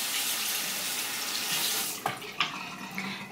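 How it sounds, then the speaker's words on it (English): Running water pours steadily from a tap while something is rinsed underneath it. The stream is close and constant, and a few splashes and knocks break in near the end. No voices are heard. "And then just rinse."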